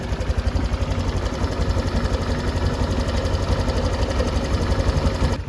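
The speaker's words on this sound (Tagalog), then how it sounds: "may maririnig tayo ng konting kalaskas ng kadena at kasabay po ng stroke ng ating mga engine may naririnig po tayo na kumpas ng lagitik" Motorcycle with 22,000 km on the odometer idles close by, its worn chain tensioner producing a steady metallic rattle and chain slap in rhythm with the engine strokes, loud and continuous.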